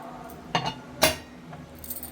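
A metal whistle weight is set onto a pressure cooker lid while cooking country chicken curry, making a few sharp metallic clinks, two of them clearly louder, close up and with no talking.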